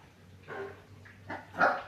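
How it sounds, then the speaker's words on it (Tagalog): A few sharp dog barks, spaced apart and rising in loudness, over a low steady hum in a quiet room. "Sabi ko mga aso."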